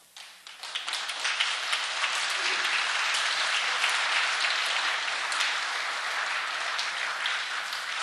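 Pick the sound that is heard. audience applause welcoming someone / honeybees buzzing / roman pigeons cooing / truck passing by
audience applause welcoming someone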